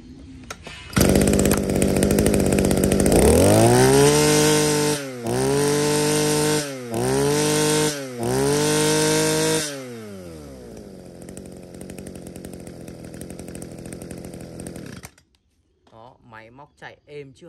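An Echo chainsaw engine, a used saw in good working order, revs loudly in four surging bursts, then settles into a steady idle for several seconds before cutting off.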